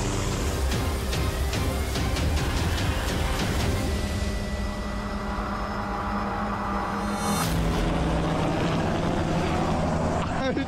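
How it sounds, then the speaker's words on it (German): A helicopter flies close by with a loud, steady engine drone and rapid rotor chopping that is strongest early on. People talk over the noise. "der Heli fliegt jetzt wieder"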